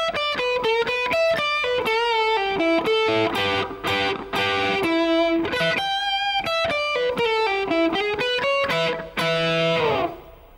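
Overdriven electric guitar plays two blues shuffle licks back to back, a steady stream of picked single notes and quick runs with a few sustained bends, close and clear with no voice.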